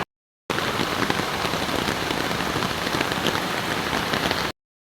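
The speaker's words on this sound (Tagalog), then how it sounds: "Yan na ang ulan." Heavy rain from a typhoon drums steadily on a roof, a dense, loud, unbroken patter of drops lasting about four seconds with no voices, starting and stopping abruptly.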